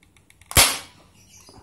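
An MP900 Super Power air gun with a replaced slide fires one sharp, loud test shot at one meter, preceded by faint clicks and followed by quiet handling noise.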